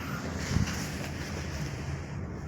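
Steady wind rushing and buffeting the microphone outdoors, a continuous low roar with no voices.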